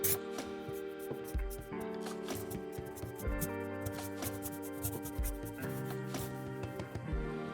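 Scrubbing degreaser off the cross slide of a 1980s lathe during restoration, cleaning dirty oil from the ways: a continuous run of close rubbing and scouring strokes with an uneven rhythm.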